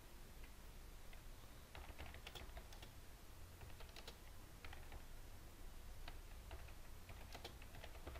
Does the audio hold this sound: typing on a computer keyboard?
yes